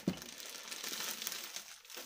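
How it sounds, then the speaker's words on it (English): Plastic bags being handled crinkle and rustle continuously for a couple of seconds, close and quiet, opening with a small sharp crackle. "I actually have all the plastic bags and stuff in here too"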